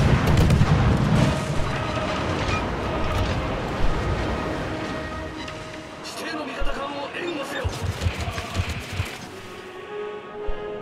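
Naval guns of the French warship Marceau firing in a naval video game, heavy booms and a scatter of sharper reports over continuous battle noise, with someone talking throughout.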